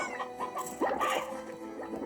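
Chickens in the Slime Rancher video game cluck in a short run of soft, repeated calls with a louder burst partway through, set against steady game background sound.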